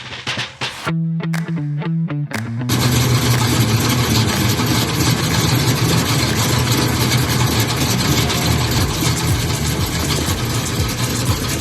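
A Chevy Monza engine is blipped in a few sharp throttle bursts, then settles into a loud, steady, rough running roar close by that holds for the rest of the stretch with no talk.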